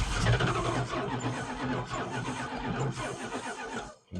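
An old Dodge engine, parked for twenty years, cranks and tries to catch, giving a rough, loud, uneven churning rumble that sputters for a few seconds before abruptly cutting out, heard close with no talking.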